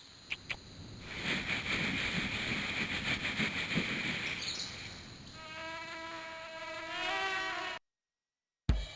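A mosquito hums in the jungle setting of the Buzzy the Knowledge Bug video game, a thin, steady insect whine that carries on for several seconds, then shifts into a tonal buzz before cutting out.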